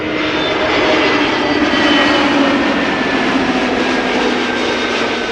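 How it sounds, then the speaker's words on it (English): KLM Airbus A321neo jet arriving at Amsterdam Schiphol from Paris Charles de Gaulle, a loud, steady engine roar with a rising whine, close and sustained throughout with no speech. "the first A321 Neo of KLM flying in from Paris Charles de Gaulle."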